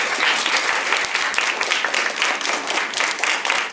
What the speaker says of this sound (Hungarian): Tapssal jutalmazták a mesét a kisiskolások.